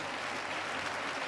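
A crowd applauds at the start of a race in the F1 2020 video game, a dense, steady wash of clapping and cheering that holds at an even level throughout.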